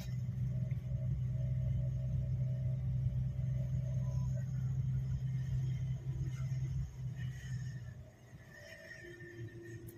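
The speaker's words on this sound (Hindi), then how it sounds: "हाँ फर्स्ट गियर में ही चलते जाओ" A car engine in first gear creeps along slowly during a driving lesson, a steady low rumble that eases off and quietens near the end.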